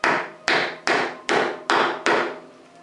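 Six sharp, evenly spaced blows ring out as a chisel is struck into wood to chop a mortise by hand, each crisp hit decaying before the next.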